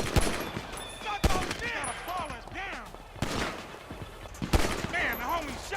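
GTA 5 Online gunfire: sharp loud gunshots crack out at intervals, about five distinct shots, between stretches of other game sounds and some voice in the background.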